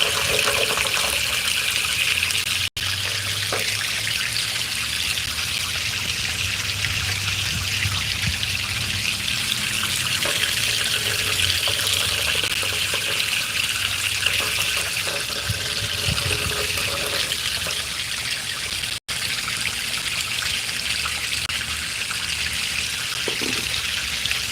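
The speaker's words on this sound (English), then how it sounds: "I think the water's traveling a lot faster on the left side of my sluice than it is on the right side of my sluice" Water runs steadily through a gold sluice box, a continuous close rushing and trickling that stays even for the whole stretch, interrupted only by two tiny clicks, with no voices.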